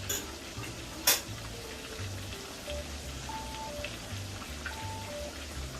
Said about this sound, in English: Frying up in this cast iron skillet